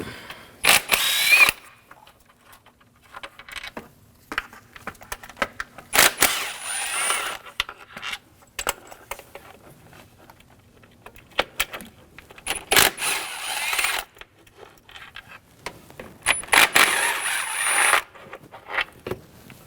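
A power tool loosens the intake bolts on a 2007-2013 BMW 328i 3.0L inline-six in short loud whirring bursts, with metallic clicks and clinks of bolts in between, close up.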